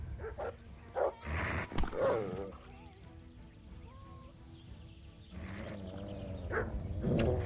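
Barks and snarls come from a dog in the medieval role-playing game Kingdom Come: Deliverance, clustered early and again near the end around a quieter stretch of faint tonal sounds; no talking.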